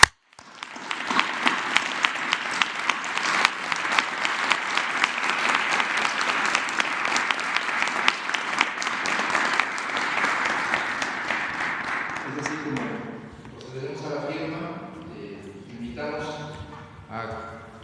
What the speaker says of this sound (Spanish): yo propondría un aplauso por este entendimiento